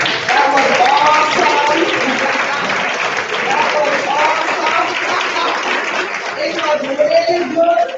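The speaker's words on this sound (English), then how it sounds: "Could you rise and give him a special applause" An audience applauds a speaker with steady, full clapping, mixed with cheering and voices rising over the crowd throughout.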